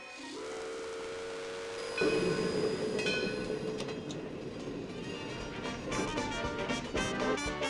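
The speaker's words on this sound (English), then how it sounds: "Agricultural trains chugged thousands of miles to hidden hamlets across the state." An old agricultural train with a steam whistle blowing, then a loud hissing, chugging rumble as it rolls along the rails, with clanking building near the end.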